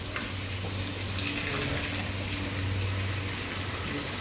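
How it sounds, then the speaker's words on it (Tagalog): One liter of water poured into a cooking pot for a turmeric dish, a steady rushing flow with a low hum that holds evenly for several seconds, close by, with no talk. "Lagyan na natin siya ng tubig na 1 litro to eh."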